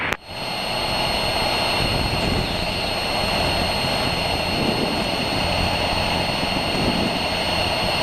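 A small airplane flying about half a mile north of a runway, its engine giving a loud, steady, continuous drone with a constant tonal whine throughout and no voices.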